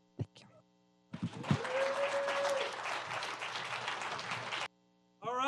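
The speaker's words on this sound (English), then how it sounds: "another round of applause for Professor Haynes" Audience applause at a university debate on the eagle versus the turkey, a steady burst of clapping lasting about three and a half seconds with a brief whoop early on, between short quiet gaps.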